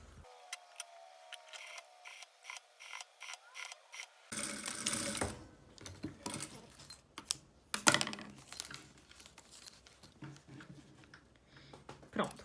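A sewing machine stitches lace trim along the edge between mesh and binding, with a rapid run of ticking stitches followed by clattering handling noises as a voice speaks.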